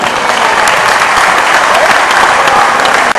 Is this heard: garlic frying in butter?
no